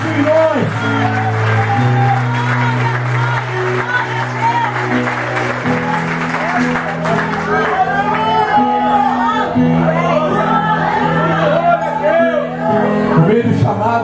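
Church congregation applauding and cheering after a pastor's call, a dense sustained wash of clapping and shouts over a droning keyboard tone, loud and close, with the pastor's voice heard at the start.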